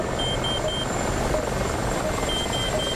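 A helicopter in the DCS combat flight simulator drones steadily overhead, a dense continuous rotor and engine roar with faint repeating warning beeps.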